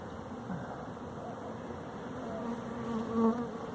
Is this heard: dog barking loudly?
no